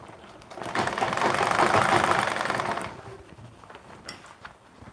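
A sewing machine stitches a skirt panel in one steady, whirring burst of about two seconds, close by, then slows to a stop amid faint clicks and room noise.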